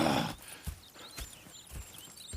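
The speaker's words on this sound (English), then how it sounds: "Go check the horses are ready." Horse hooves clip-clop in an irregular walking rhythm in the Red Dead Redemption 2 video game, with a brief whinny at the start, all fairly quiet and close.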